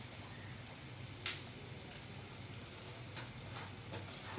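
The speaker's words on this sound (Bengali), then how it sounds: "সম্পূর্ণ মশলাগুলো আমি একটু ভালো করে কষিয়ে নেব যাতে যে মশলাগুলো আমি দিয়েছি তার কাঁচা গন্ধটা চলে যায় আর তেলটা একদম ভেসে ওঠে" Turmeric, chilli powder and salt fry in hot oil for mustard hilsa, a steady close sizzle with a brief brighter crackle and a few soft stirring scrapes.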